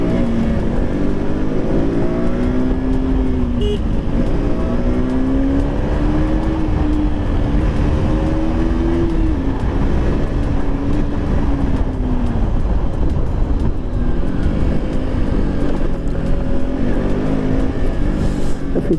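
A motorcycle accelerates along a road to overtake other traffic. Its engine note climbs and falls as it revs, heard close up under constant loud wind rush, with no talking.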